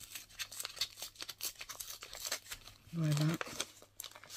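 A sealed advent calendar packet held shut with sticky dots is pulled open, giving soft crinkling and short rustles of paper under someone speaking French, with a brief louder tone near the end.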